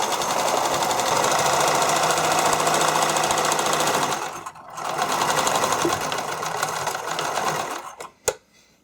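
Sewing machine running a straight seam on stretchy spandex, a fast steady motor hum and needle chatter that pauses briefly midway, then resumes and stops with a couple of clicks.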